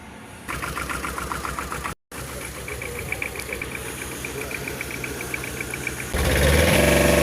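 A 2021 Tata pickup truck engine idles steadily with a faint rhythmic ticking, briefly cutting out once, then growing louder and rougher near the end.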